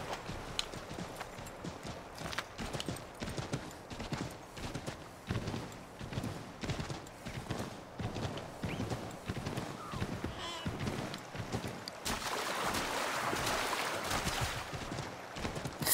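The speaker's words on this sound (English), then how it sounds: "Really, horse?" Horse hooves clip-clop steadily in Assassin's Creed III, a continuous walking rhythm over game ambience, with a brighter noisy wash entering near the end.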